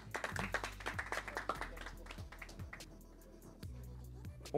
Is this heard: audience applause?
yes